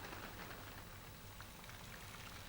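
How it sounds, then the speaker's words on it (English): Steady patter of rain dripping off the ends of umbrella spokes, dense and even, with drops falling continuously and no voices. "Look at how the rain drips off the ends of the spokes of the umbrella"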